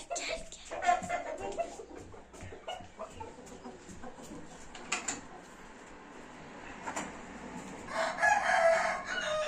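A rooster crows nearby twice, near the start and again at the end, amid clucking fowl and some handling noise of birds being carried.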